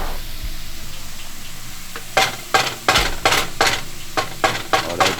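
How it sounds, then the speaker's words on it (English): Garlic fries in a pan for spaghetti bolognese, a steady sizzle followed by a quick run of loud utensil clacks and scrapes as it is stirred against the pan. "I think it would be a good idea to throw the garlic in there"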